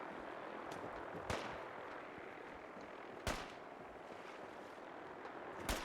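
Distant gunshots in Fallout 4 aimed at a vertibird: three sharp isolated cracks spaced a couple of seconds apart over a steady ambient hiss, faint overall.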